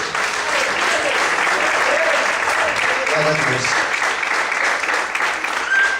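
A church congregation applauds in a steady, dense wash of clapping that lasts throughout, with a voice briefly calling out over it.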